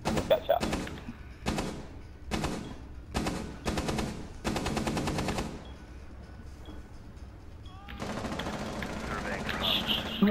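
Bursts of automatic gunfire in a video game shooter, several rapid volleys in the first half, then a denser, noisier stretch of shooting with voices talking over the action.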